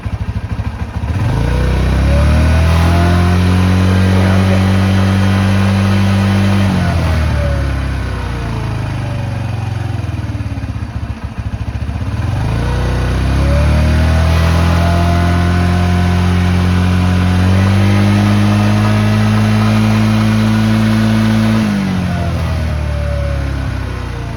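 A 1985 Honda Elite CH150 scooter engine runs at idle nearby, a steady loud putter that rises and falls in pitch twice as the revs change.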